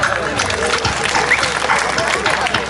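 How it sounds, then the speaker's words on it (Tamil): Audience applause at a Tamil stage talk, a dense burst of clapping mixed with crowd babble and voices throughout. "அதற்கு என்னுடைய கைதட்டு"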